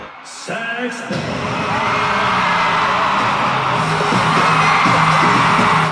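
A packed reunion concert crowd for a girl group screams and cheers loudly, the roar building and holding steady, with shouting voices rising through the dense noise.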